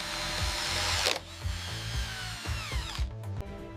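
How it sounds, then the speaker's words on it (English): A power drill bores microscopic channels into large human bones for hardware, its motor whining steadily for the first second, then running on with lower intermittent grinding and brief pulses as the bit works into the bone. "We drill microscopic channels"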